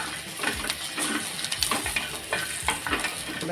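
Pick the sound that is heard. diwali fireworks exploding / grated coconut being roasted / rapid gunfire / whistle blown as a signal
grated coconut being roasted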